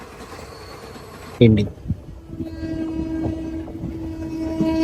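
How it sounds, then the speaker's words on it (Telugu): Express train passing on the railway line between Nellore and Sullurupeta, a rising, rumbling roar that builds steadily close by after a brief horn-like tone. A voice speaks briefly over it. "మళ్ళీ ఇంకో ఎక్స్ప్రెస్ ట్రైన్ అయితే వచ్చింది"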